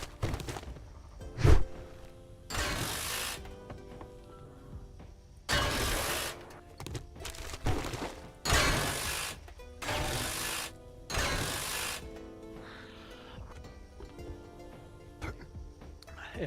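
Loud, beefy mechanical whirring in the video game 7 Days to Thrive, coming in heavy repeated bursts with clanks and thuds between them, rough and grinding, with pauses of near quiet between surges.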